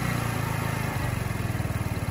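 An engine runs then settles into a steady idle, close by, with a low, even pulsing throb throughout and no talking.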